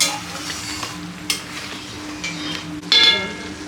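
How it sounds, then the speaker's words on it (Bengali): Onion and paneer go into a pan of sizzling masala while butter naan and paneer masala are being made: a steady fry hiss, a stirring scrape near 1.3 s and a sharper clatter of ingredients hitting the pan near 3 s. "এখন আমি বাকি পেঁয়াজ আর পনিরটার মধ্যে দিয়ে দিব।"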